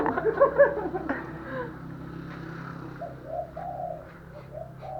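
Pigeons or doves coo softly in a steady low rhythm with a few brief chirps, near and moderate in level, with no talk over them.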